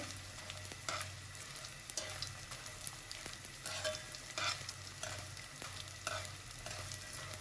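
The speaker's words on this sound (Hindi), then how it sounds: "घी हमारा गरम था, फौरन ही हमारी गोंद फूलने लग गई है" Edible gum (gond) puffing in hot ghee for gond and flaxseed laddus, a soft continuous sizzle and crackle with occasional stirring clicks, fairly quiet and steady throughout.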